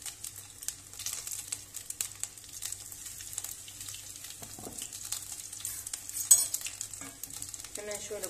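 Cauliflower fries in a pan with a soft, steady sizzle and crackle, with a few stirring clinks and scrapes near the end, close and moderate in level.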